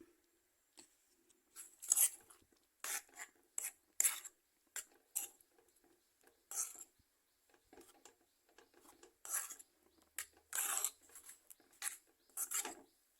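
Cooked taro being mashed in a pan for curry, a string of soft, wet scraping and squishing strokes in an irregular rhythm, close and fairly quiet with short pauses between them.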